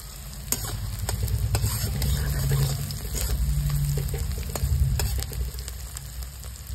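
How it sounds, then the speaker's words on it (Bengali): Raw onion and green chillies frying in a pan with mustard seeds, a loud close sizzle with scraping stirs and clattering utensil strikes at an uneven rhythm, no talking. "পেঁয়াজটা ভাজা হতে হতে আলুটাও ভাজা হয়ে যাবে।"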